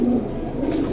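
Pigeons at a market stall where pairs are sold coo steadily and close, a low rolling murmur running through the whole moment with no talk.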